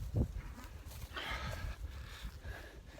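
Young cows crowding close across an open field, with heavy thumps of hooves and shuffling bodies over a low, uneven rumble, moderately loud and without speech.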